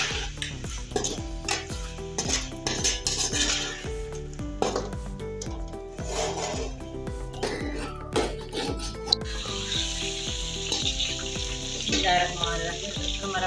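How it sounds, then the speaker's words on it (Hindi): Garlic paste hits a pan of frying chicken, setting off a busy sizzle with repeated spoon scrapes and clinks against the pan as it is stirred, close and fairly loud throughout. "ये मैं इसके अंदर लहसुन का पेस्ट डाल रही हूँ"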